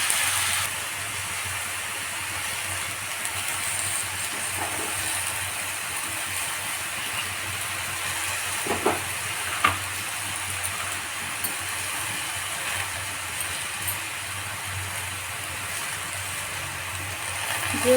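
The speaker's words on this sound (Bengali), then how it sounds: "এবার আস্তে আস্তে এভাবে ভেজে নিতে হবে।" Chopped cabbage frying in a pan for a Bengali cabbage chorchori, a steady soft hiss and sizzle running throughout with faint occasional clicks of stirring, close and even.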